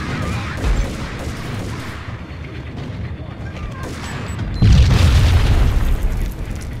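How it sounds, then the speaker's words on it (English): A C4 explosion in the video game Max Payne lands as a loud, deep boom near the end, preceded by rumbling gunfire and effects, with a person talking over the game sounds. "Oh, that's C4."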